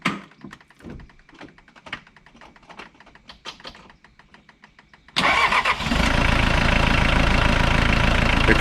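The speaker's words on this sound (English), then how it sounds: "So I guess I'm ready to see if it'll crank over and fire up." A Ford Ranger engine cranks over with a rapid series of starter clicks, then fires and settles into a loud, steady run that dominates the rest of the clip.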